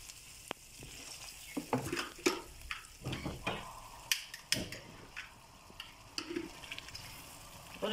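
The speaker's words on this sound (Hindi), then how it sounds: "और इसको 5 मिनट तक भूनेंगे।" Sarson ka saag roasting in a pan over a flame: soft irregular sizzling and crackling with occasional clicks and spoon stirs, close and fairly quiet.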